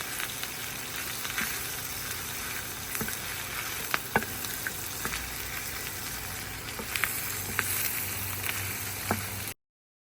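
Tomato paste sautés on an outdoor sac griddle for a lamb stew, a steady close sizzle with occasional clicks and taps from stirring, ending abruptly.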